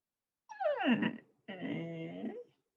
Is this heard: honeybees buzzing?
no